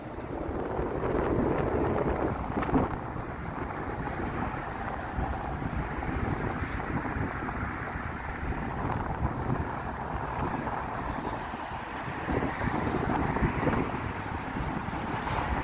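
Wind blows along a city street off Weston Road in Toronto on a Sunday evening, a steady, loud buffeting rumble pressing on the microphone throughout, with no voices.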